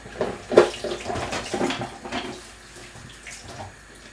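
Green bananas are rinsed under a running kitchen tap: splashing, gurgling water with a few sharper splashes early on, fading to a quieter trickle toward the end.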